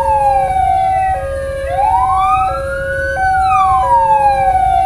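An ambulance siren wails loud and close at a KRL commuter-rail level crossing in Rangkasbitung, Banten, its rising and falling tone sweeping steadily and unbroken over low road rumble.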